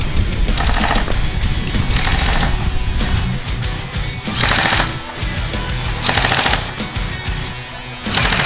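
Sustained bursts of rapid automatic fire from a KWA KRISS Vector airsoft gun during an outdoor skirmish, a dense, continuous mechanical rattle with brief pauses between strings.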